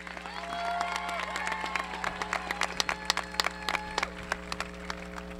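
A graduation ceremony crowd applauds with dense clapping that builds and then thins into scattered individual claps over a steady low hum, moderately distant in a large hall.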